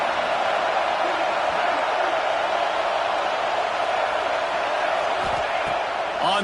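A stadium crowd at an LSU football game roars steadily, a broad wash of cheering and noise sustained throughout, with a commentator talking over it.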